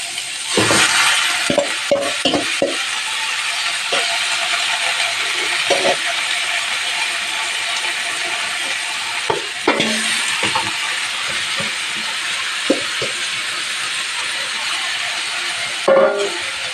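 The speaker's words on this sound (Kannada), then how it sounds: "ಹಾಗೆಯೇ ಇವಾಗ ಬೇಯಿಸ್ಕೊಂಡಿರೋ ಸೊಪ್ಪನ್ನ ಹಾಕ್ಕೊಳ್ತಾ ಇದ್ದೀನಿ." Cooked greens drop into a pan for upsaaru and are stirred, making intermittent scrapes, knocks and clatters of a utensil against the pan over a steady low background hiss.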